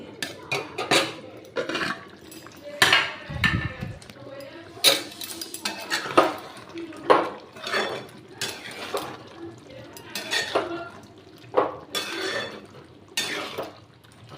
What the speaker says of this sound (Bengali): দেখুন ঢাকনাটা খুলছি